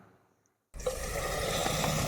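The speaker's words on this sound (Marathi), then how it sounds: "यामध्ये आपण पाणी घालूया" Water poured into a pan of mutton frying in oil with spices, a sudden loud splash and hiss after a brief near-silence, then a sustained bubbling pour that holds steady to the end.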